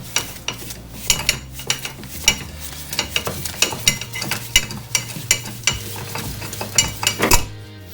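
A wrench twisting off a tie rod on a 1987 C4 Corvette, rapid repeated metallic ratcheting clicks and scraping taps in a fairly steady rhythm, close and loud, with no talking.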